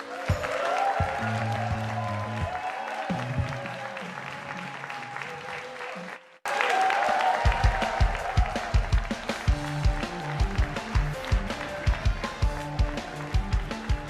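A studio audience at the Inside the Huddle football show applauds, first a steady, close wash of clapping, then after a brief cut a louder, rhythmic run of sharp claps.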